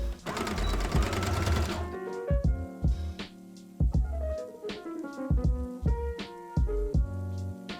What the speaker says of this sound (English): I'm going to fold it over and top stitch, so we have a casing right here that is big enough for our boning to go into